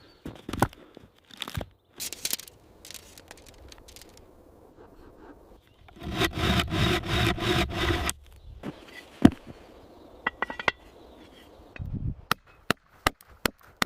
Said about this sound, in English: I use an axe to clean and level the end of the log